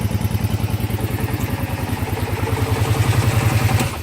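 Small 420 engine running steadily after a gear reduction install, giving a loud, close, even chugging idle with a regular rapid beat and slight clatter that holds without letup.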